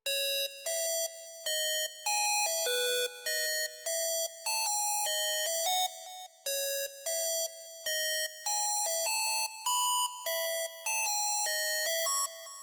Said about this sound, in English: Here is the preset of the lead, and this is how it sounds without mixing.